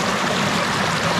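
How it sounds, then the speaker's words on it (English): A high waterfall roars in a steady, loud, broadband rush of falling water heard up close, with no pauses and no voices. "This is gonna be the high waterfall."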